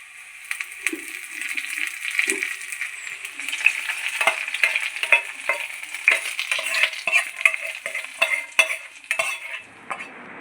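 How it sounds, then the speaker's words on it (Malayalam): Shallots fry in hot oil in a pan with a bright, steady sizzle, broken by frequent close scraping and clinking as they are stirred. "ഒന്ന് നന്നായിട്ട് കളർ മാറി വരണം ചെറുള്ളി, അതുവരെ നമുക്കൊന്ന് മൂപ്പിച്ചെടുക്കാം"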